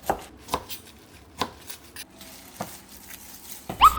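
A knife slices tender deodeok root on a cutting board, landing in a handful of crisp, separate chops spaced irregularly against quiet surroundings. A louder knock closes the sequence.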